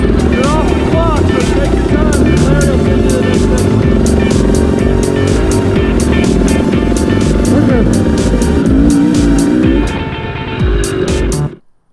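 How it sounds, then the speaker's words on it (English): Dirt bike ridden along a transfer section of an enduro event at Far Reach Ranch in 2020, recorded from a helmet: loud, close engine drone with steady revving and wind rumble, easing off and cutting out near the end. "Now we ride a short transfer section to the start of section two."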